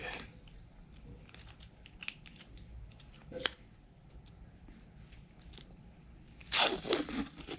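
The lid and seal of a tub of Häagen-Dazs matcha green tea ice cream come off with quiet crinkles and scrapes, ending in a louder rustling tear near the end.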